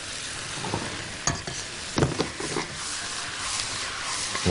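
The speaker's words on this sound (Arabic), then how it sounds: "واشوحها كويس جدا مع ايه؟ مع البصل" Thick-cut potato slices sautéed with onions in a pan sizzle and fry steadily, with occasional stirring scrapes breaking through the constant close hiss.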